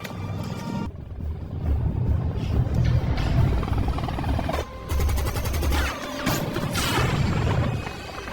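Movie action scene with gunfire aimed at a helicopter as it is shot down: dense, loud crashing and blasting bursts over a low rumble, with a brief lull near the middle before the chaos resumes.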